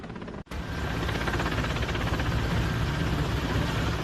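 Air force helicopter dropping relief supplies over flooded Darbhanga, Bihar: a loud, steady rotor and engine roar fills the whole stretch after a brief cut near the start, with no voices.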